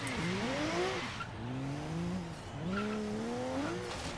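A car popping a wheelie in Forza Horizon 3: its engine roars loudly, rising through repeated revving sweeps as it shifts gears, with a faint tire screech and no talk.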